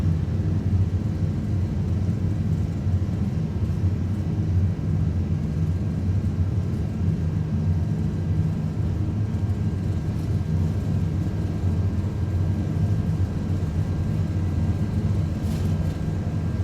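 Airbus A330 engines at takeoff thrust in a flight simulator game, a steady, loud, low roar that holds unbroken and unchanging throughout, with no talking.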